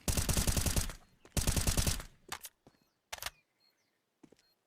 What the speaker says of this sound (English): Well, the Mac 10 takes the first, but Bloggist trades back out of the T side